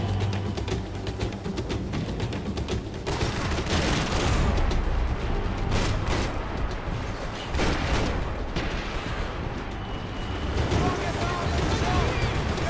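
Boat exploding amid heavy gunfire in the action video game Max Payne 3, with dense bursts of shots and booms running loud and continuous throughout.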